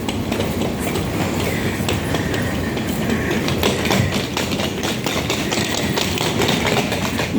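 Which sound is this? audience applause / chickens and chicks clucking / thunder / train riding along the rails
train riding along the rails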